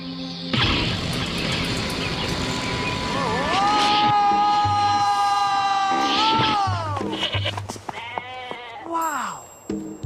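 Sheep bleating loudly and close, long wavering cries that rise and fall, with other bleats and some voices around it.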